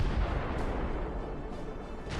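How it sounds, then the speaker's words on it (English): A drone strike on an armoured personnel carrier sets off a massive explosion, heard as a loud, sustained broadband roar and rumble with no voices. "A massive explosion."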